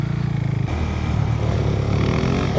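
A motorcycle engine revs loudly up close during a wheelie attempt, a steady throbbing drone that climbs in pitch as the throttle opens, with no talk.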